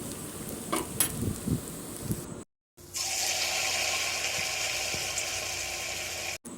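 Bora fritters crackle irregularly, then after a brief silent break settle into a steady, loud hiss of deep-frying oil that lasts to the end, with no voices.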